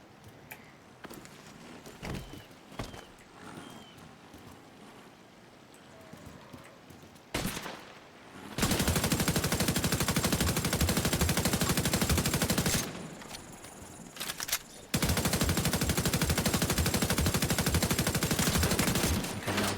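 Sustained machine gun fire from an MG player in a first-person shooter game, a long loud continuous burst that cuts out briefly and then resumes just as heavily, after quieter scattered game sounds at the start.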